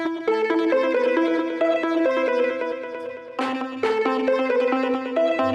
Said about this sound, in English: Let me just play for you one, and you can hear the second one in response to the arp 1.